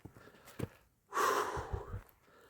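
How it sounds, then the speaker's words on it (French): Heavy, labored breathing from a hiker climbing uphill through larch and fir forest, a few soft breaths followed by one loud, close gasping exhale that trails off. "Qu'est-ce que je suis essoufflé aujourd'hui."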